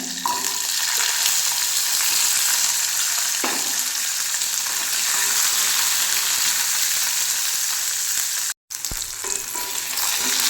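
A handful of small onions fry in a pan while cooking soya chunks, a loud continuous hiss with occasional stirring scrapes, cut off briefly near the end before resuming.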